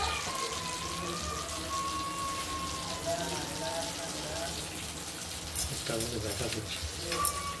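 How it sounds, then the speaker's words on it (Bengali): Bay leaf, dried chili, cinnamon and cardamom fry in hot oil, giving a steady close sizzle and crackle that runs throughout, with a faint voice over it. "তেজপাতা অল্প তেজপাতা দিলাম, তেল দিয়ে দিলাম, তেজপাতা, লঙ্কা, দারচিনি আর এলাচ"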